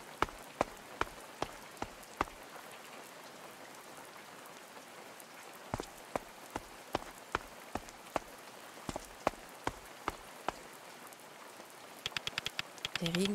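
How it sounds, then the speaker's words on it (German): Heavy rain in the video game A Space for the Unbound falls as a steady wash of patter, broken by sharp individual drop hits and clicks, with a burst of rapid ticks and a voice at the end. "Der Regen wird heftiger."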